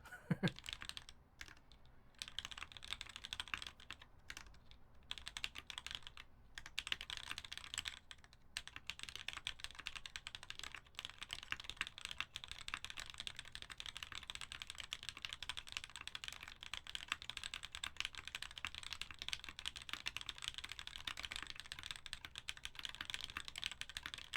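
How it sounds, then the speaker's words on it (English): Steady, quiet typing on an unplugged computer keyboard, the keys clicking in a continuous rapid patter with short pauses, close and faint. "Like if you're just typing unplugged."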